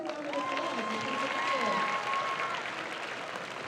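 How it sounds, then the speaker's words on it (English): A high school assembly audience applauds qualifying students with continuous crowd clapping throughout, mixed with cheering voices and speech. "So let's give them a round of applause."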